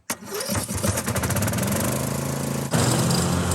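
Engine of a modified lawnmower vehicle starting: a quick cranking stutter, then it catches and settles into a loud, rough, steady idle, with a brief surge in the last second.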